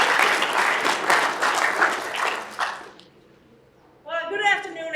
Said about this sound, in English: So let's give a warm round of applause for Pat Dillon.